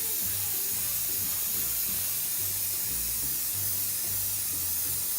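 Crep Protect protective spray applied to leather shoes from about 20 cm, a steady continuous aerosol hiss lasting throughout, close and fairly even with a faint low hum beneath.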